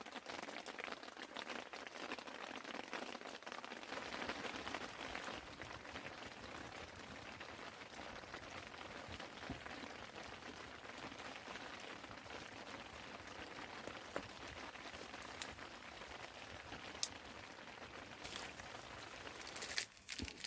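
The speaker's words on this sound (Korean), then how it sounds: "아, 빗소리 듣기 좋네요." Soft, continuous patter of rain falls steadily for the whole stretch at Chungju Lake during eel fishing, with a few sharper drips and ticks near the end; fairly faint and without voices.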